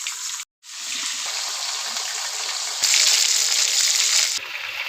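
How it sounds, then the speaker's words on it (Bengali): Batter-dipped loitta fish dropping into hot oil and frying, a loud steady sizzle broken by a brief silence near the start, then growing brighter and fiercer for a stretch before easing slightly. "গরম তেলে ব্যাটারে ডুবানো মাছগুলো ভেজে নিচ্ছি।"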